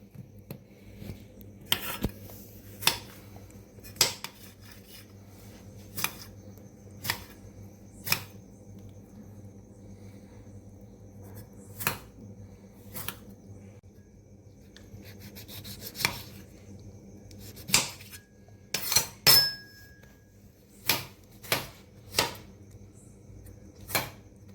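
Tomatoes are chopped on a board with a knife in sharp separate strokes, close and clear with pauses between cuts, and no talking.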